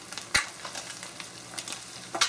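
Eggs frying over easy in a pan, a steady soft sizzle with a few sharp pops and crackles over 2 seconds, close and alone without talk.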